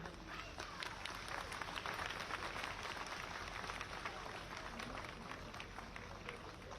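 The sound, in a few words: audience applause at school campaign launch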